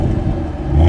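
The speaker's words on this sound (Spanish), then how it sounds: "Escuchad cómo suena este escape." Exhaust of a 640 hp American sedan, a deep, loud engine roar that holds steady and swells near the end of a short burst.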